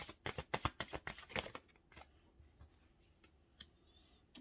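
A deck of tarot cards is shuffled in quick, loud riffling flutters for about a second and a half, followed by softer, scattered card slides and taps as a card is drawn.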